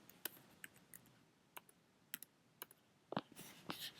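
Quiet, irregular clicks of typing on a computer keyboard, single keystrokes spaced apart, ending in a quick cluster of taps and a heavier press like the enter key.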